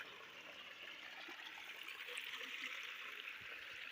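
Water from a waterfall near Kathar village in Dadyal, Mirpur, Azad Kashmir rushes as a steady, even hiss, heard from some distance with no voices present.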